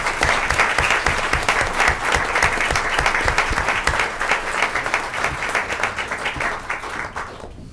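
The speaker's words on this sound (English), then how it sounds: "And if we can give our third graders another round of applause." Loud, sustained applause from an audience at a school board of education meeting, honoring a group of third-grade students; dense clapping fills the hall steadily before tapering slightly at the end.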